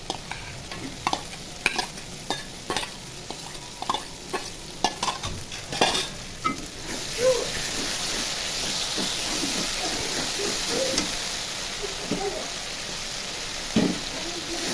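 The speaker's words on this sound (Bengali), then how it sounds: "শুটকিগুলো আমি ধুয়ে পরিষ্কার করে নিয়েছি, এখন কষিয়ে নিব।" Washed dried fish is stir-fried in a pan: a run of sharp spatula clacks and scrapes against the pan, then a steady, louder sizzling hiss with occasional stirring knocks, all close by.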